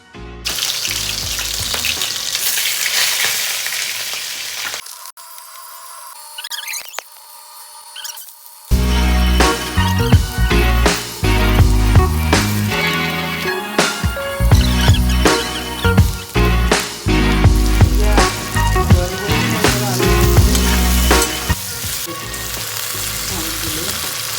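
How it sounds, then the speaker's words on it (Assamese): Pre-boiled potatoes frying in a pan, with a steady loud sizzle and clatter. The sound drops to near silence for a few seconds before dense sizzling and scraping return. "তো আলুখিনি ফ্ৰাই কৰিম"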